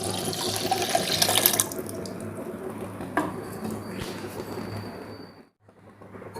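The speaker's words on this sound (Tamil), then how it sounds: "ஏதாவது ஒரு பாத்திரம் வச்சு அதில் வந்து 1 லிட்டர் பால் ஊற்றலாம்" Milk being poured into a pan at home for almond milk, a loud steady splashing pour for about the first second and a half, then a softer continuous liquid trickle with a faint clink, fading out near the end.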